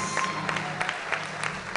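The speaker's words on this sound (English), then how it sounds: "One more time, give a round of applause." Applause from a pageant audience at the Miss Marshall Islands event, a steady wash of many hands clapping at moderate level with no voices standing out.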